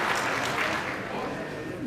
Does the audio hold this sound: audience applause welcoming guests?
yes